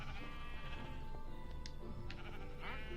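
Several Minecraft sheep bleat in quick succession, clear wavering baas overlapping one another against a soft game background near a villager-powered wheat farm.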